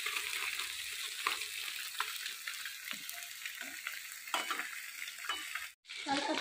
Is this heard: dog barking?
no